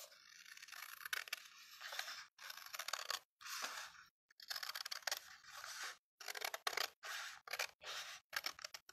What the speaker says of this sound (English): So I'm just going to cut this strip off.